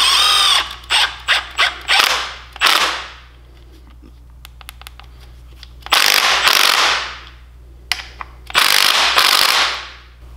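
Ratchet or power tool snugging bolts on an Argo 8x8 Magnum brake caliper during a rebuild, quick bursts of loud buzzing clicks at the start, then longer runs with quiet pauses in between.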